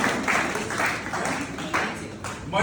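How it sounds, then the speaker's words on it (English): An audience claps for a student in a short, steady burst of applause filling the room, fairly close and sustained throughout. "We should clap for him."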